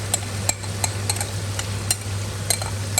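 Soaked urad (mash) dal being tipped into a cooking pot and stirred, giving sharp intermittent spoon clinks and scrapes against the metal over a steady low hum, with no talking.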